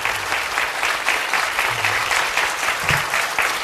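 A standing church congregation gives loud, sustained applause to welcome an arriving pastor, a dense, even roar of many hands clapping throughout.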